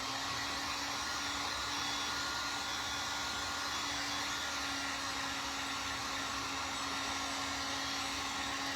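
A hair dryer runs steadily while drying a stencil for an Easter bunny decoration on an arch, giving a constant, even whooshing hum with a fixed motor tone throughout and no talking.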